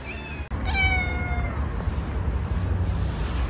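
A street cat in Samarkand meows twice in quick succession, close and clear, with steady outdoor background noise underneath.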